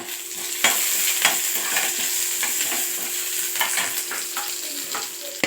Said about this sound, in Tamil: கருவேப்பிலை போட்டுட்டு பூண்டு பூண்டு போட்டு நல்லா வதக்குங்க